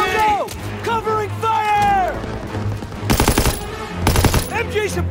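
Bursts of machine-gun and rifle fire in the Call of Duty WWII Hill 493 mission, loud rapid volleys in two clusters near the end, with shouting soldiers' voices and battle chatter over them in the first half.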